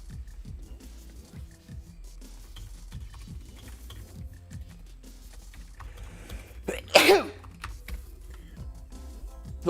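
One sharp, abrupt sneeze bursts out in a quiet room, with soft keyboard clicks and low hum in the background.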